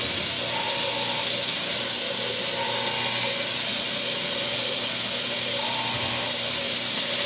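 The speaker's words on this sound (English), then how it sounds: "Before you eat the donuts, wash your hands." Water runs steadily from a tap into a sink while hands are washed, a continuous hissing flow with a few faint higher tones on top and no talking.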